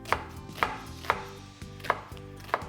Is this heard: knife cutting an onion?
yes